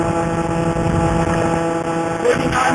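A CAG 49cc pocket bike with its stock exhaust pipe screams steadily at full throttle around 5,000 RPM, a loud, sustained high-pitched buzz close by with no talk over it.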